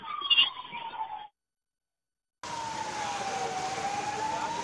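An ambulance siren wails in heavy traffic on Victoria Road near Chepauk in Chennai, a faint steady tone that cuts out briefly and returns over a low road rumble.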